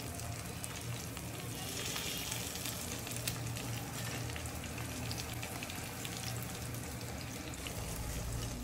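Onion rings frying in hot oil give a steady, close, unbroken sizzle and crackle that holds evenly for the whole stretch, with no voices over it.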